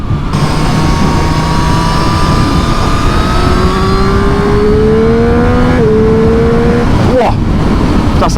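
Close, loud road noise from a 2023 Triumph Street Triple 765 roadster riding on a road, its engine note climbing steadily in pitch under heavy wind, with a voice talking over it.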